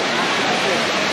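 Tirathgarh waterfall in Jagdalpur, Chhattisgarh, roaring as a steady, loud broadband rush of falling water that fills the whole short moment without a break.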